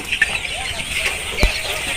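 Sonali chickens clucking on a poultry farm, a busy continuous chorus of birds with a sharp knock partway through.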